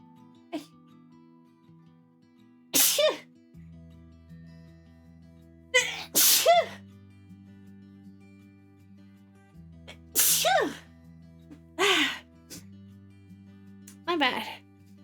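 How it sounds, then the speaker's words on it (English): Several sharp sneezes burst out at irregular intervals, each a loud broadband blast, with a low steady hum and bits of voice between them. "I went to sneeze."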